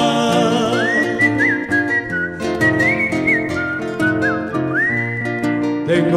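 A man whistles a lively, wavering folk melody from Argentina's Entre Ríos region, loud and up close over steady instrumental accompaniment that plays throughout.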